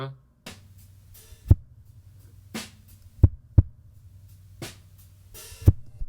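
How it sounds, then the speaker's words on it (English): A deadened kick drum thumps sparsely and irregularly, short low hits over a faint hum, with some quiet background noise between. "let's just listen to the kick all by itself"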